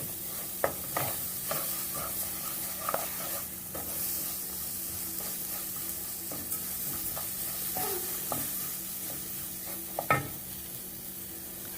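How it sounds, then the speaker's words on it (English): Diced onion sautéing with toasting rice in a pan for a broccoli cheese rice casserole, a steady low sizzle with scattered stirring scrapes and a sharper clack near the end, close and alone. "I am going to saute that as I continue to toast the rice"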